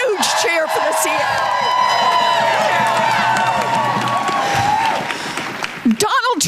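A large outdoor crowd at a rally for the Consumer Financial Protection Bureau cheers, whoops and claps loudly and continuously for about five seconds, then the noise fades to scattered shouts.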